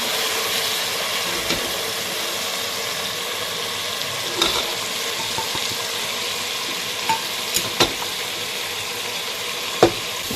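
Ground masala powder fries and stirs in hot oil for prawn biryani, a steady broadband sizzle with a few sharp spits and pops, close and alone with no talk.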